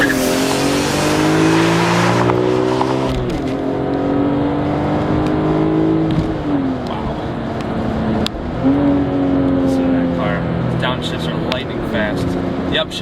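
A BMW M3 Competition SMG coupe's 333-horsepower engine, in sport mode, revs up through rising pitches, shifting gears several times as it accelerates hard, loud and close, with a voice talking over it.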